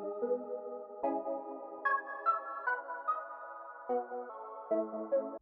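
An arpeggiated synth key preset called Run It from Analog Lab plays changing chords in a steady, bright pattern of notes, loud and continuous, with no voices over it.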